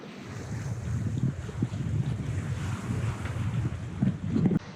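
A Fountaine Pajot Saona 47 catamaran under sail off Italy in about 10 knots of wind: steady rushing wind buffeting the microphone over washing waves and hull splashes, close and continuous, with no speech.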